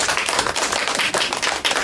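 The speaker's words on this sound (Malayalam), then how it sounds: "ഓക്കെ, വലിയൊരു കയ്യടി കൊടുക്കണം." A group of people at a masala powder making training class clap their hands together, a brief burst of close, crisp, steady applause with no talk.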